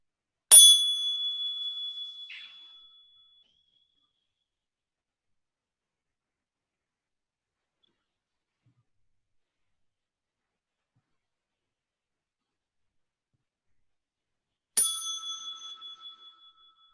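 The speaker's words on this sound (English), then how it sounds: "please take a few moments after I hit the bell, and I will turn to hit the bell probably a couple of times" Meditation bell struck twice, each strike a bright, clear ring that decays slowly over a couple of seconds, the two strikes separated by a long silence.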